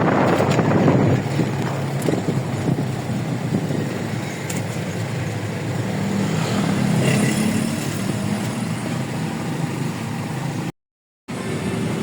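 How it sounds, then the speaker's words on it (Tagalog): Strong wind roars and buffets continuously against the microphone at a bus terminal, a dense rushing noise with gusty swells and a brief dropout near the end. "Lakas ng hangin."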